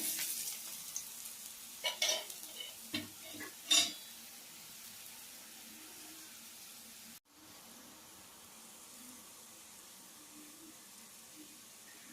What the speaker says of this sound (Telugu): ఇలా తిప్పుకొని మళ్ళీ ఆయిల్ వేసుకోవాలి.